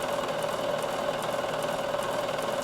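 Bernina sewing machine stitching knit fabric, a steady close mechanical whir with a fast even rhythmic hum running unbroken throughout.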